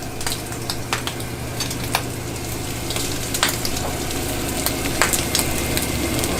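Chorizo frying in butter in a hot pan: a loud, continuous close sizzle and crackle, with scattered sharp pops and occasional stirring scrapes throughout.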